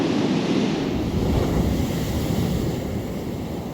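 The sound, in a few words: big ocean swells and surf on the Holderness coast in stormy weather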